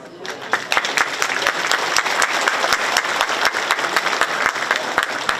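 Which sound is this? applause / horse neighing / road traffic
applause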